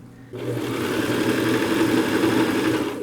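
A sewing machine stitching a fabric seat cushion cover runs in one steady, continuous whir after a brief start, loud and close, with no speech.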